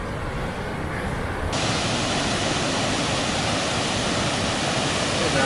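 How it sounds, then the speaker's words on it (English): A waterfall along the Pennine Way gives a steady, broad roar of rushing water, loud and unbroken from start to finish. "You can see the beautiful waterfall."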